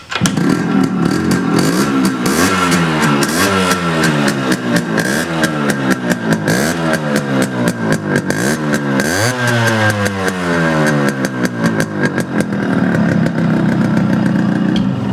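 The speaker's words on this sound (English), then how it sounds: "let's hope the bike starts in one kick" A restored Yamaha RX100 two-stroke motorcycle is kick-started and catches, its engine running loud and close with a rapid, buzzy, popping idle and repeated throttle blips rising and falling, with no talking.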